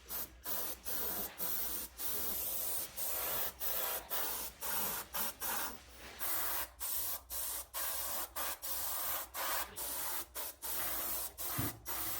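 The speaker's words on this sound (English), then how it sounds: "you can run your airbrush all afternoon for the most part" An airbrush hisses in short, repeated bursts of spray with brief pauses between them. The compressor is fed from a pressure tank, and a soft background hum sits under the bursts. Nobody talks.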